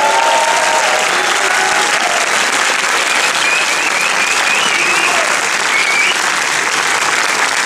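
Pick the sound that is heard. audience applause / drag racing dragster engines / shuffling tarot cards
audience applause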